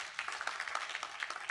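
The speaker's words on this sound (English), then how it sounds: "Please give them a round of applause." An audience at an event honouring an operations department claps together in a faint, continuous patter of scattered hand claps, distant and sustained.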